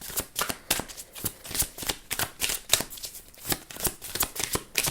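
A deck of reading cards being shuffled by hand, with rapid, crisp riffling bursts repeating in an uneven rhythm, close and fairly quiet with no talk.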